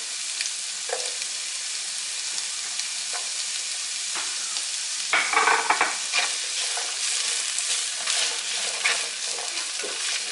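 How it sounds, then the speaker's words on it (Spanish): Mixed vegetables with carrot and green onion sautéing in a pan, a steady close sizzle and fry with occasional stirring scrapes, no voices. "No van a estar cocidas estas verduras, solamente van a estar un poco salteadas, un poco fritas nada más."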